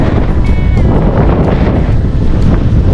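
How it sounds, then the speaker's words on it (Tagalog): Strong wind buffets the microphone in a steady, loud roar, with rushing low-end noise throughout and faint water sounds behind it. "Mahangin, sobra."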